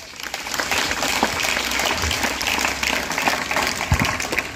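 An audience at a Haryana Day celebration applauds loudly and steadily, a dense wash of clapping with a few sharper claps standing out, continuing without a break.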